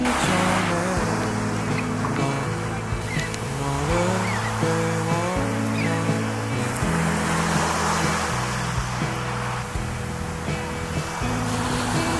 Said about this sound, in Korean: 우와 파도 친다.